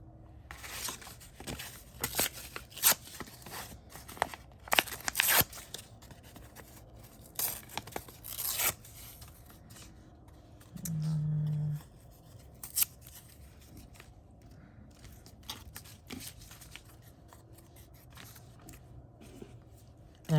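Paper scraps handled for crafting, with short crisp snips and tearing sounds at irregular intervals over a quiet background, then a longer stretch of soft rustling and a brief low hum.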